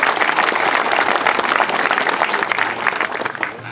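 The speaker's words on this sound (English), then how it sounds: "Please give them a great applause" Outdoor crowd applauding at the Elmer Flick statue dedication, a sustained burst of many hands clapping that eases off near the end.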